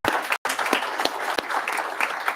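Audience applause for an honoree at a Board of Education business meeting, a dense steady patter of many hands clapping, fairly close and continuous, with a brief break partway through.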